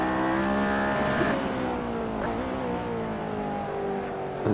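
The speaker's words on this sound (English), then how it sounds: "So here we go. P1 McLaren." An orange McLaren P1 on a hot lap of the Nordschleife, heard onboard as a steady, loud engine drone with a shift in pitch just after the first second, then sustained high revs.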